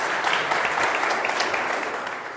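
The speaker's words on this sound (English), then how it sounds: "Can we get just a quick round of applause for our..." Conference audience gives a dense, steady round of applause for customers on stage, loud and close, fading slightly at the end.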